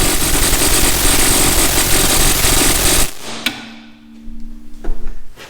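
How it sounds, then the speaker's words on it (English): An electric impact wrench hammers loudly and continuously on a stubborn 14mm lower shock bolt of a 2006-2011 Honda Civic for about three seconds, then stops, leaving a faint hum and a few clanks of tools nearby. "the electric impact wouldn't touch this bolt"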